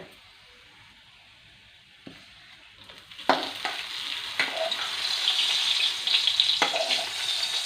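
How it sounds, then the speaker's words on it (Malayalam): Shallots, dried red chilies and curry leaves fry in hot coconut oil for a curry tempering, sizzling and crackling steadily, swelling louder after a few seconds, with occasional sharp pops and stirring clicks. "ചുവന്നുള്ളി ചെറുതായിട്ട് അരിഞ്ഞതും വറ്റൽമുളകും കറിവേപ്പിലയും നമ്മളിതാ വെളിച്ചെണ്ണയിൽ ചൂടാക്കി വറുത്തെടുത്തിരിക്കുകയാണ്"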